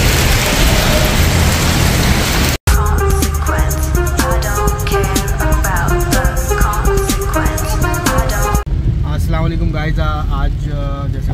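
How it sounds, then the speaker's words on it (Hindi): Heavy rain on roads in Khorfakkan roars and patters loudly and constantly, with a brief cut partway through and dense drumming on a hard surface afterward. "बारिश बहुत तेज़ हो रही है"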